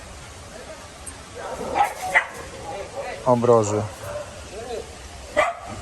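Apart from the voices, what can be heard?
dog barking at a dog shelter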